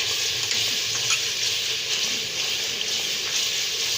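Ginger garlic paste fries in a pan with a loud, continuous hissing sizzle, steady and close for the whole stretch, with no voices.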